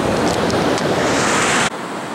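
Surf rolls onto a beach in a broad, loud hiss of breaking water mixed with wind buffeting the microphone, cutting off abruptly near the end, with no voices.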